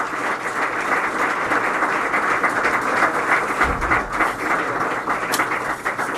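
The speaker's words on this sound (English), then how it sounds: "Let's receive, please, with a big applause, Jaime Maussan" A conference audience at a ufology event gives a big round of applause welcoming journalist Jaime Maussan, a steady, full-room clapping that holds for several seconds without speech.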